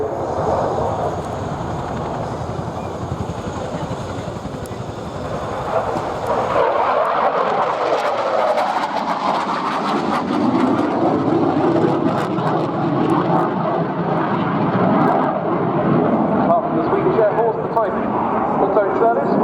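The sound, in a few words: Saab JAS 39 Gripen fighter jet flying at RIAT 2016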